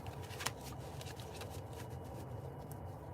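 Soft, rapid riffling of tarot cards being shuffled, close and quiet, continuing steadily without pause.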